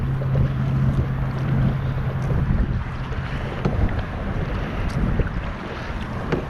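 Strong wind buffets a microphone out on open water during a first outing in an Ascend H12 hybrid kayak in March, a constant loud roaring rush with gusty swells and no talking.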